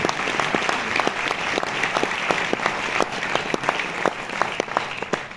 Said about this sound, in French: Gilles Vial, des Films du Losange, vous pouvez l'applaudir.